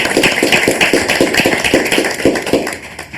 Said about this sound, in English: Round of applause for Diane